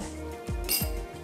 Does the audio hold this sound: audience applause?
no